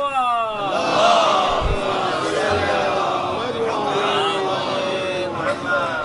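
Crowd at a Muharram religious gathering chanting Nara-e-Haidari and salawat, many voices rising together in loud sustained responsive calls that echo through a hall.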